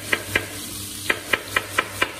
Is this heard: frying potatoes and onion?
yes